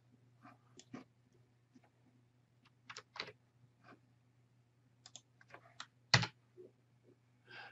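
Computer mouse and key clicks while editing Canvas course settings: sparse, quiet, sharp clicks scattered irregularly over a faint steady hum, with one louder click near the end.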